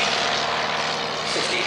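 A 1912 Blackburn Monoplane Type D with a 50-horsepower engine flies overhead, a steady propeller drone heard briefly under a voice talking.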